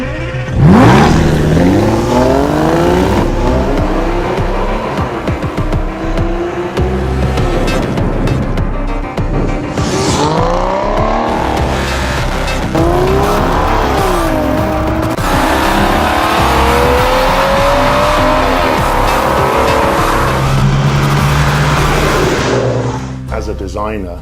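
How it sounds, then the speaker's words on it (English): Aston Martin DB9 engine firing up and revving hard, rising and falling throttle sweeps with squealing tires and passing acceleration, heard loud and close with talk running over parts of it. "There is nothing like the sound of a DB9 when you first fire the engine."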